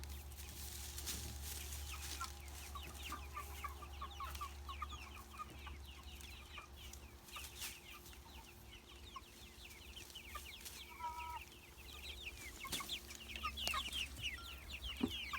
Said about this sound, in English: You should have let us know all these chickens got out